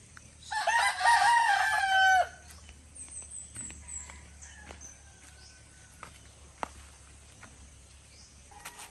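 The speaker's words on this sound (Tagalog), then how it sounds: "Ugad sa manok." A rooster crows once, loud and close, followed by scattered quiet clucks and faint outdoor sounds.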